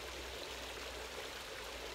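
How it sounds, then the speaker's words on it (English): Small outdoor waterfall, a steady broadband rush of falling and splashing water, close and continuous with no voices. "I found a waterfall. It's a small waterfall, but it's beautiful"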